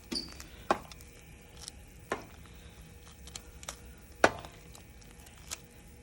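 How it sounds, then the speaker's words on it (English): Metal tongs break up cooked noodles in a colander, with a handful of sharp clicks and scrapes spread irregularly over a quiet, faint background. "I'm using my tongs, which is a really good tool. And I'm breaking these up."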